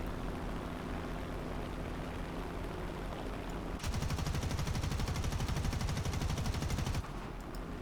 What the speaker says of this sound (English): These guns do have pretty good shotgunning effect